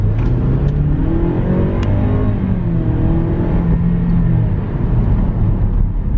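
A 2015 Jaguar XF pulls hard from inside the cabin, engine rising smoothly in pitch as it climbs through quiet gear shifts, a loud steady rumble with no talking.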